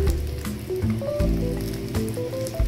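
Dried fish (tuyo), slightly burnt, sizzling and crackling in a frying pan, with steady close popping and spattering throughout a brief stretch, no talk.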